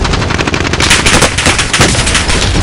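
Rapid automatic gunfire in a video game, loud and continuous bursts of shots packed closely together for a few seconds, with no voices over it.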